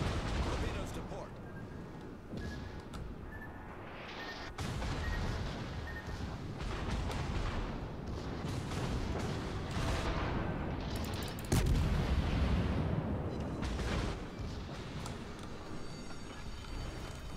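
Warship turret guns fire in the naval video game World of Warships, heavy booming salvos and explosions over constant engine and sea rumble, with someone talking throughout.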